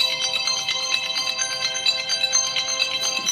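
A phone ringtone for an incoming call plays steadily throughout, a bright repeating electronic melody at moderate loudness with no talking over it.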